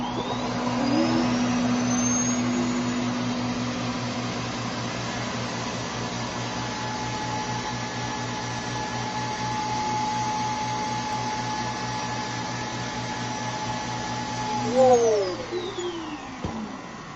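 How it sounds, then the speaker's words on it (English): A Shark AI Ultra robot vacuum's dock self-empties with a loud, steady vacuum-like suction roar that runs continuously, then swells briefly and winds down with a falling whine near the end. "It just kind of sounds like a regular vacuum running when it does it."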